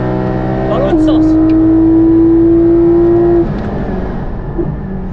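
A race car on the Le Mans circuit roars with a sustained high engine note that holds steady for a few seconds, then drops away as it brakes hard; loud and close, with voices in the cabin.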